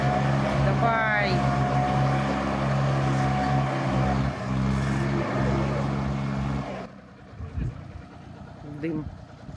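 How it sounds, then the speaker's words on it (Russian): A tractor engine roars loudly and steadily while its wheels spin all at once, trying to pull a stuck car, with a rising whine over the drone and voices talking; the noise drops off sharply near the end. "Трактор, вот видите, буксовал, бедный буксовал всеми колесами."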